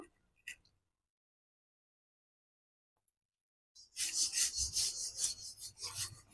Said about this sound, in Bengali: এবার চলো ভালো করে চিকেনের সাথে এই মশলাটা আমি মিশিয়ে নিই